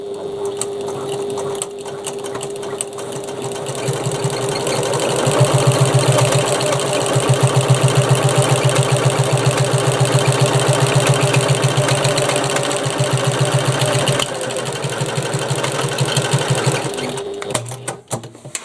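A sewing machine stitches a seam at a steady rapid hum for about ten seconds, starting and stopping with soft clicks, close and loud, no talking.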